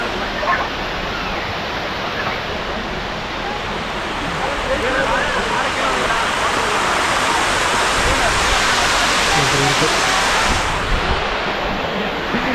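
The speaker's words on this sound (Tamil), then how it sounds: "வந்து சின்ன வாட்டர் ஃபால்ஸ் போல்" Kovai Kutralam waterfall, a steady broadband roar of falling water, loud and close, continuous for the whole stretch with no break.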